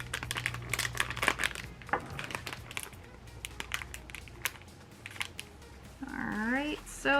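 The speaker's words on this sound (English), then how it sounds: "here are my scissors. So we are just going to cut alongside the dotted lines" Scissors snip along the dotted lines of a packet from a cooking kit, giving quick crisp cuts and crinkling plastic at close range, with a brief voice near the end.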